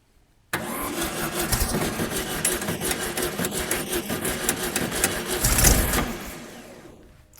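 A Karmann Ghia engine cranks and catches, starting abruptly and running rough and loud close by for about six seconds, swelling near the end before cutting off into silence.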